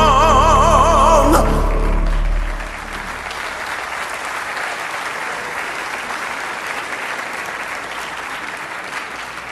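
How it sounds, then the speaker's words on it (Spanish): Audience applause fills a church conference hall as a sung or played passage ends, loud sustained clapping continuing steadily for several seconds alone. "Did Michael tell you not to clap?"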